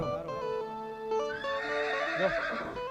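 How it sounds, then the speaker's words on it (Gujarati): A horse neighs loudly and close by, a long wavering whinny that rises and falls, with faint hoof clatter beneath. "આવ્યો ને ઘોડાનો અવાજ આવ્યો"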